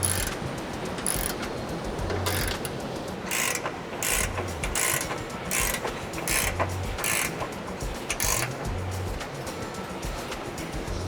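A ratchet wrench tightens the lower control arm nuts on a 2024 Toyota Tacoma during a lift kit install, giving repeated bursts of quick clicking in a steady back-and-forth rhythm, close and fairly quiet.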